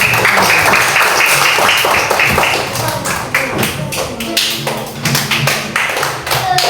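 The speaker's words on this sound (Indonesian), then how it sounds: "Tepuk tangan." Classroom applause from students, a dense patter of hand claps spread over several seconds, loud and close, with some thumps mixed in.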